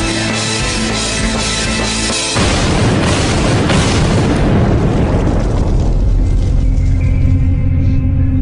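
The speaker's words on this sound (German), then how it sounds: "Die Sprengung hat die Stärke eines Mini-Erdbebens und erzeugt vor allem einen Knall" A dynamite blast goes off with a loud, sudden boom that is strong enough to shake the ground. A long, broad rumble follows and slowly fades over several seconds, with no voices heard.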